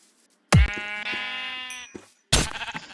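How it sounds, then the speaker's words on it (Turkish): Two video game sheep bleats, the first a long wavering call, the second a short loud burst, both close with a quiet gap between them and no talking. "Koyun sürüsü."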